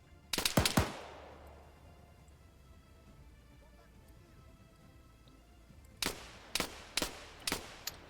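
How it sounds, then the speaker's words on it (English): Handgun shots in a video game: a quick burst of three or four sharp cracks at the start, quiet ambience, then a second spaced volley of five shots near the end. "So they're trying to fire back with handguns."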